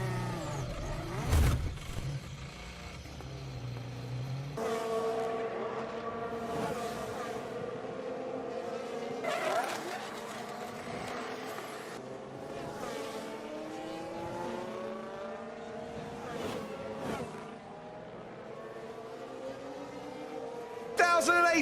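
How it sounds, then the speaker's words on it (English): A Formula 1 car rejoins the track after a crash, its high-pitched engine whining through rising and falling gear changes at moderate distance, mixed with crowd and broadcast background and a sharp burst at the start. "That's the car recovering back onto the track"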